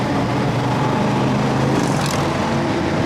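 A 1996 Chevy 1500 pickup with a camper, engine droning steadily under throttle from inside the cab, a loud continuous low rumble with a slight rise in pitch partway through.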